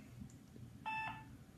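Telephone redial tones from an office phone during a real estate prospecting call: a short burst of steady electronic dialing beeps about midway through, fairly quiet over a low background hum.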